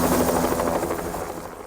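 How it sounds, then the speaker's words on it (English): A helicopter flies over a fire-burned mountain mine, its rotor chop pulsing steadily and fairly loud through a short stretch with no talk. "The helicopter which dropped us off kept flying round trips while we checked out the mine, hoisting burned debris off the mountain"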